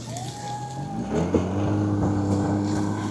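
A snowmobile engine drones steadily close by in snowy Ladakh, its low hum running continuously under faint wind noise.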